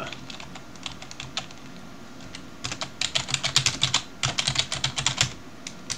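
Rapid typing on a computer keyboard while writing a code comment, a close, clear run of key clicks that starts sparse and then comes in quick dense bursts.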